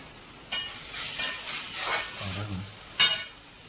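Masala with powdered spices (coriander, Kashmiri chilli, turmeric, crushed fennel and pepper) sizzles and is stirred in a pan for a Kerala-style prawn roast, with steady frying and scraping strokes and a couple of sharper utensil knocks.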